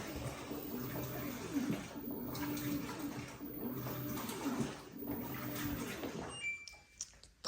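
An LG 16kg WT16WV6 washing machine fills with water, giving a steady close rush of flowing water, then a few faint clicks and knocks as the flow drops off near the end.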